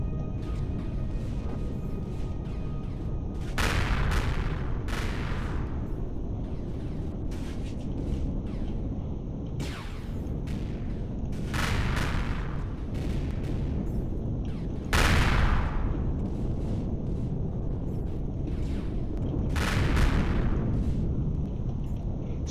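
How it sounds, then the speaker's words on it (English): Repeated heavy spaceship explosions from the space combat game Empyrion, with several loud booming blasts spaced a few seconds apart over a steady rumbling background of engine and weapon noise. "You're about to see lots of explosions here."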